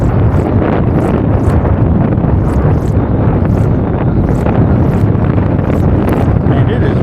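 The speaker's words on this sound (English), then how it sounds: "man, it is windy out here." Strong spring wind gusting up to 27 mph across a lake during a fishing outing, roaring continuously and buffeting the microphone with a heavy rumble, while a voice is faintly present under the noise.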